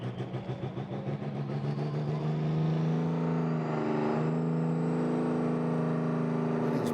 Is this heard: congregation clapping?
no